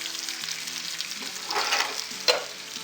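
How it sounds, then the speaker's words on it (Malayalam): Fish frying in a pan for a Kerala-style fish curry gives a steady close sizzle, swelling briefly midway, with a sharp clink of a utensil near the end. "ഇപ്പോൾ ഫിഷ് 2 സൈഡും ഒരുപോലെ അധികം മൊരിയാതെ ഫ്രൈ ആയിട്ടുണ്ട്."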